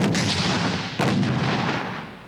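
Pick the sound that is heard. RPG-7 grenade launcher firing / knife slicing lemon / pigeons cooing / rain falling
RPG-7 grenade launcher firing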